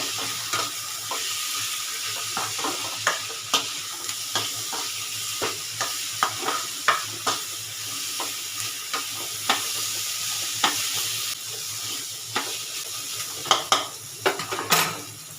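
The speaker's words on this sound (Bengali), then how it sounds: "এবারে কিছুটা লাল লঙ্কার গুঁড়ো দিয়ে ভালো করে আমি এটাকে একটু ভাজা ভাজা করে মিশিয়ে নেব" Chicken mince with red chili powder stir-frying in a pan, a continuous close sizzle punctuated by regular spatula scrapes and knocks against the metal, with no talking.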